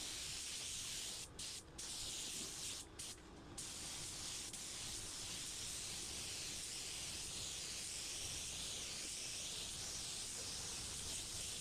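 Continuous airy hiss of a spray gun applying sealer to a car at about 30 psi, broken by a few quick pauses early on, then running steadily and evenly to the end.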